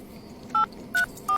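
Three short electronic keypad beeps sound as a telephone is dialed, each tone clear and separated by brief pauses over a quiet room hush.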